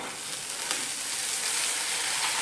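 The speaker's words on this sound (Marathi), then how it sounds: "बघा याच्यात थोडीशी डाळ आपल्याला परतून घ्यायची त्याला" Soaked chana dal frying in hot oil: a dense, loud, steady sizzle fills the whole moment, close up and unbroken, with a faint stir near the middle and no talking.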